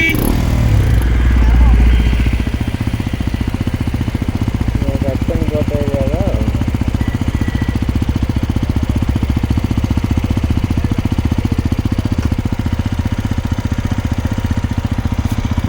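A motorcycle engine idles loudly and steadily near the listener in a hilly Eastern Ghats setting, a continuous throbbing rumble throughout, with voices faintly present under the engine.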